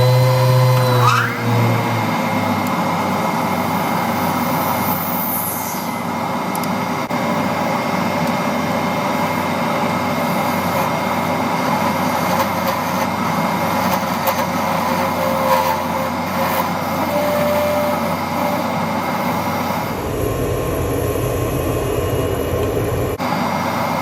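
Metal part being machined on a lathe as threads are cut, a steady, close whirring machine drone with a continuous grinding hum that shifts character near the end; no talk.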